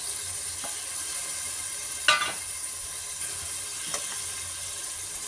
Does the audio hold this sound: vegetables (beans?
yes